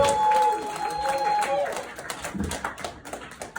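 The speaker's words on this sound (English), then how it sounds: "So a big round of applause for our second comic of the night" An audience in a bar claps and cheers for a comedian taking the stage. The applause is moderately close, starts under a voice and a brief whistle-like tone, and then tapers into scattered claps.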